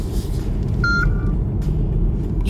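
Mercedes CLS 400d 4matic AMG Line rolling around a roundabout at about 40 km/h, a steady low road and engine rumble inside the cabin, with a brief electronic chime sounding partway through.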